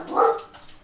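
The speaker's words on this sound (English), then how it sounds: "Sorry about the dogs. They probably see someone outside." Indoor dogs bark at someone outside: one short, loud bark up close, followed by fainter noise.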